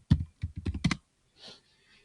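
A quick burst of keystrokes clatters on a computer keyboard, about a dozen crisp clicks in uneven groups, then a pause and a faint final tap.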